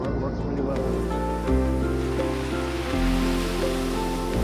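Ocean surf washes steadily against a rocky shore near Lima, a continuous broad roar of waves, heard close with a faint tonal hum on top and no talking.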